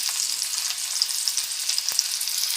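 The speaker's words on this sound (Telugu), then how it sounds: "ఉల్లిపాయలు ఇంకా పచ్చిమిరపకాయ ముక్కలు కట్ చేసుకున్న వేసుకోండి." Onions and green chillies frying in hot oil, a dense close sizzle and crackle with occasional pops, continuous and fairly loud with no voices.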